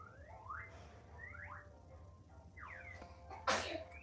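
A single sharp sneeze bursts out close and loud near the end, following a series of rising electronic chirps like a car alarm sounding in the background.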